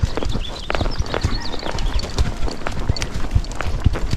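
A Tennessee Walking Horse works a round pen, its hooves striking the ground in a steady, quick clip-clop rhythm, close and fairly loud, with dull thuds and ambient noise between strides.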